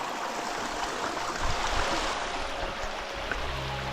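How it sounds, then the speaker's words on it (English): A creek flows steadily through jungle terrain near waterfalls on Ko Pha Ngan, Thailand, its close, even rushing wash continuous throughout with no voices. "follow this creek and see what we find up here"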